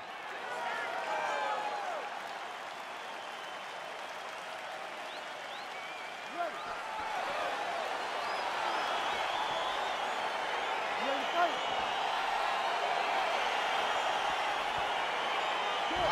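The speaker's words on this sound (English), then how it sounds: "crowd getting excited as this fight gets underway" Arena crowd at a UFC 275 mixed martial arts fight start, a steady roar of cheering and applause sustained throughout, loud and broad with a couple of brief sharper shouts.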